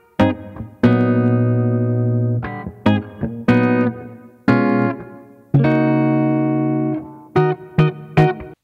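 A track plays as loud, distorted sustained guitar chords in uneven stabs and held blocks, with sharp stops and short gaps between them.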